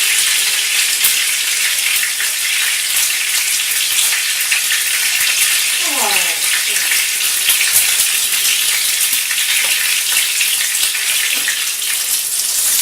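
Steady, bright sizzling of a tuna steak frying in a hot pan, continuous and close, with a brief clink partway through.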